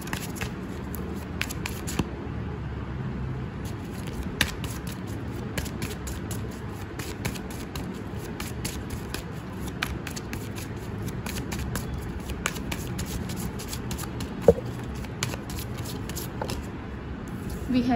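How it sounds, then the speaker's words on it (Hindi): Tarot cards being shuffled by hand, a steady soft riffling and shuffling texture with scattered small clicks throughout, sitting under a low background hum. "जब तक मैं सफलिंग कर रही हूँ"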